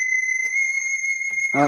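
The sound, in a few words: alarm going off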